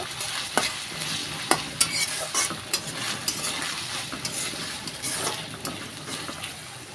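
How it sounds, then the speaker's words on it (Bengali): Ginger, garlic and onion fry in a pan with a loud, close sizzle, broken by repeated scraping stirs and light clinks of a utensil against the pan, with no voices. "এই আদা রসুনটা একটু পেঁয়াজের মধ্যে আমি ভালো করে ভেজে নেব"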